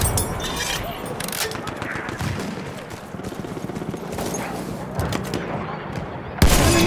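Battlefield 1 combat with rapid gunfire and scattered booms rattling on throughout, loud and close, a sharp burst near the end, and voices calling out over the shooting.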